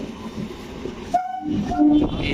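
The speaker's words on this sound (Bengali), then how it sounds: "অপেক্ষা করার পর ট্রেনটা এলো" A suburban train in South 24 Parganas rolls into a station over a low rumble, then sounds a couple of short horn blasts close by, with the steady noise of the train continuing afterward.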